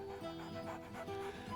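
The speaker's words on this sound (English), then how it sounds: "Scratch barks merrily in something like agreement." Scratch, the dog in Baldur's Gate 3, gives a few quick, soft barks and pants close by over quiet game music.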